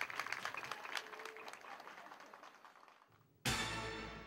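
Spectators at a fire rescue competition in Shiga, Japan applaud and cheer, a steady wash of clapping that fades slightly, then swells again loudly near the end.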